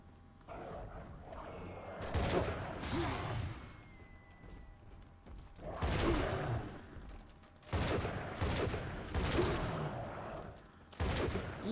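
Gunfire in Bioshock 2 Remastered comes in several dense, rapid bursts of rattling shots, each lasting about a second or two, with quieter mechanical game sounds in the gaps between them.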